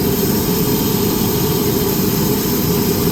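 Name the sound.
airport tarmac with aircraft engines running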